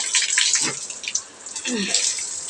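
A pet drinking and playing in running tap water, with a steady splashing stream pouring into a sink or basin and a few brief lapping and splashing bursts, close and fairly loud.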